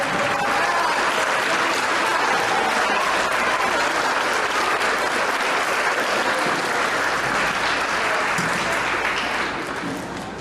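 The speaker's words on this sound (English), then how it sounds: "give them a big round of applause for participating this year" At a school athletic ceremony, an audience gives cross-country runners a long, loud, steady round of applause that keeps up for about ten seconds and eases slightly at the end.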